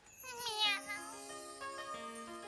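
A cat meows in a long, drawn-out call followed by a couple of shorter mews, close and fairly clear.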